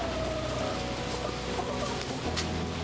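Chickens clucking amid a steady farmyard background, with a few brief calls standing out over a continuous bed of noise.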